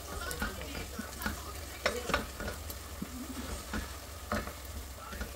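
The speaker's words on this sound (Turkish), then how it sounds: "Biber salçasını ilave ettim. Şimdi o da kavruluncaya kadar kavuracağım." Onion and pepper paste sizzles and fries in a pan while being stirred, with soft scraping strokes over a continuous low sizzle, close and fairly quiet, no talking.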